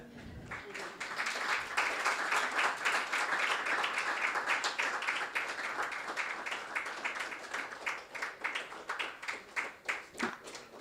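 Applause from a seated audience at a spring meeting of a technology development fund on women in technology, a dense steady wash of many clapping hands that thins into scattered claps near the end.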